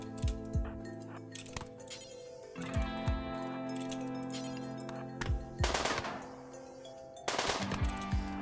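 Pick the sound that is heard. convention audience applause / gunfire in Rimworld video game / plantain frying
gunfire in Rimworld video game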